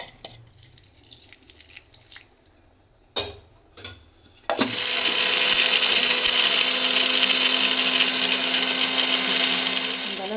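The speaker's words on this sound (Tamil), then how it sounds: "நம்ம வந்து ஃபைன் பேஸ்ட்டாக, நல்ல பேஸ்ட்டாக வந்து நம்ம அரைச்சிக்கலாம்" A mixer grinder blends cashew, fennel, cumin, pepper, coconut and curry leaves into a fine paste for crab curry. A few soft clicks and drips come first, then the motor kicks in with a loud, steady whirring grind that lasts to the end.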